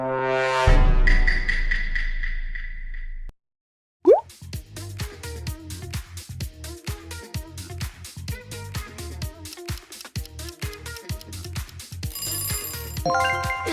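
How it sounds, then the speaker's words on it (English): A medley of short electronic jingles and bleeps from the game Among Us, starting with a plucky chime, then a brief silence, followed by a rhythmic synth tune of quick repeated notes. "It's Among Us."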